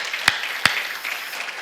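A church congregation at a pastors' seminary claps twice, two sharp, separate hand claps a moment apart over a low room murmur.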